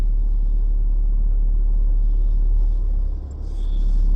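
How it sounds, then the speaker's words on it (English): A car passing close behind someone outdoors, a steady low rumble that dips briefly and swells again, with no talking over it. "There's a car behind me."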